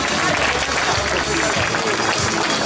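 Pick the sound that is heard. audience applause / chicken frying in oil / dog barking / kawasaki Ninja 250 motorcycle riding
audience applause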